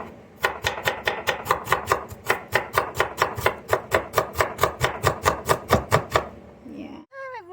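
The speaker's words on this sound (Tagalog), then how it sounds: "Hiwain. Tapos, pit-pit. Para lumabas ang lasa." Onions for tilapia paksiw being sliced and pounded on a board: a steady run of about twenty loud, evenly spaced knife chops close up, ending in a brief scrape, with no talk.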